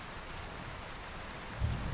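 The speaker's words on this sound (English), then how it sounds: "It's raining." Steady rainfall in the game Skyrim running a Zelda mod, an even hiss of drops with a brief low rumble near the end, heard alone without voices.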